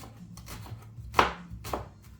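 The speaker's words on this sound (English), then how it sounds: "Yep, chopping onions again." Onions are chopped on a board with a knife, a handful of sharp, close knocks at uneven intervals, the loudest near the middle, over a faint low background hum.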